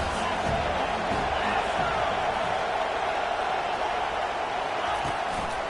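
A stadium crowd in a football video game gives off a steady, dense roar throughout, loud and unbroken.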